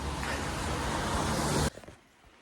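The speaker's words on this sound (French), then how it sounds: "La pluie, elle tombe comme ça" Dense, steady rain-like roar fills most of the clip, then cuts off abruptly, leaving a few faint, scattered patters.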